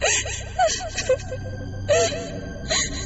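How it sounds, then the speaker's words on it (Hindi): Crying comes from a bathroom in a horror story: a close voice gasps, whimpers and sobs in wavering bursts over a low droning background. "अचानक बाथरूम से फिर वही रोने की आवाज सुनाई दी"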